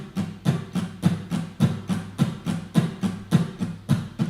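Acoustic guitar strummed down and up in an even, straight rhythm, roughly nine steady strokes in four seconds, close and clear with no voice, playing the two chords of a song.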